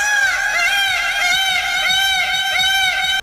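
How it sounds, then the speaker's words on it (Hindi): A peacock gives a loud, drawn-out wailing call that holds steady for about three seconds before cutting off sharply, close and clear with no talking. "सबसे पहले मोर की रियल आवाज"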